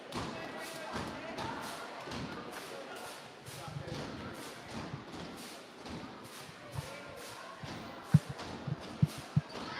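A basketball from a varsity girls' game bounces off the rim and thumps on a gym floor, heard as a run of dull thuds amid crowd and court noise, with a few sharper bounces near the end.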